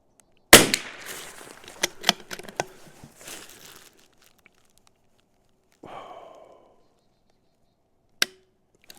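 A CZ 457 rimfire rifle with a reprofiled firing pin fires outdoors: a sharp loud crack with a trailing rattle, a second softer shot several seconds later, then a brief click.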